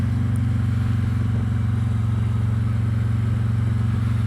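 Harley-Davidson Electra Glide engine heard while riding, a steady loud low throb with a regular pulsing beat that stays even throughout, with no voices.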